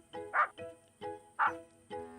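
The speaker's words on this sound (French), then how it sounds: "Snuffy continua à aboyer." Snuffy, a cartoon dog hunting for Barbara at the foot of a tree in a forest, lets out a series of about five short, evenly spaced barks, with alternating higher yips.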